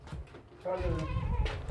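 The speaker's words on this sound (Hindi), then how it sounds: "ये देखें, एक बकरा है, एक बकरी है, 2 बच्चे हैं" Goats for sale as Eid sacrificial animals, a buck, a doe and two kids, bleat in a farm pen. One loud, wavering bleat rises over steady background noise and faint voices.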